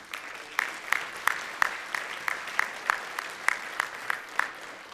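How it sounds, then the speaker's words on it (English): Audience applause for residential school survivors at a First Nations health summit, heard as a steady wash of clapping from a large crowd with sharp, regular accents roughly twice a second. "Let's give them a big round of applause"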